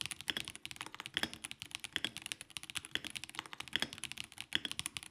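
Fast, steady typing on a gasket-mounted mechanical keyboard with a polycarbonate plate, silicone case dampening and pre-lubed hot-swappable switches; dense, soft, muted clacks close up with occasional heavier key strikes, no voices.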